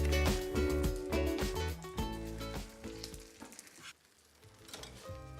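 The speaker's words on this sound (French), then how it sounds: "on va laisser cuire à feu doux pendant 5 minutes" Nectarines cook gently in an olive oil caramel over low heat, with a close, strong sizzle and crackle that fades over the first few seconds into quieter bubbling and popping.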